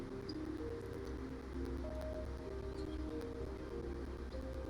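Birdsong ambience across a virtual open-world landscape: soft, distant chirps and coos scattered over a steady hiss of rustling, rain-like background noise, with no voices.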